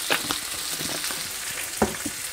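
Onions fry with a pinch of turmeric powder for dosa masala, sizzling steadily and close by, with a few sharper crackles and stirring scrapes rising above the hiss. No one speaks.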